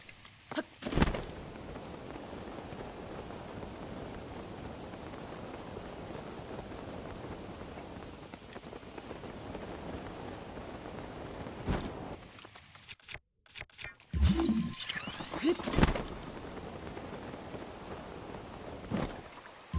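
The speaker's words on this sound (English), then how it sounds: "Of course it had to start raining." Steady rain pours down in The Legend of Zelda: Breath of the Wild, a continuous hiss that persists throughout, with a brief drop-out partway and a few louder thumps and footstep-like sounds near the end.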